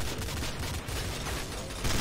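FAMAS rifle fire in Counter-Strike: Source, rapid dense bursts of shots in close succession, loud and continuous across the whole stretch.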